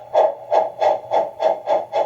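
Rhythmic chuffing bursts from a garden railway model locomotive's DCC sound effects, seven evenly spaced puffs in quick succession, close and clear, matching the train's rising speed.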